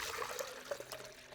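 Water pours and trickles faintly into a small container to dilute a garlic slug spray, a short quiet splash alone without talk.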